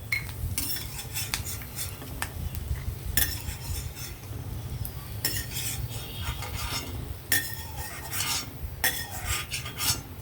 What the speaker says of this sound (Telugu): లైట్గా వేయిందాం మరీ మాడిపోవద్దు దోరగానే వేయించాలి పప్పులు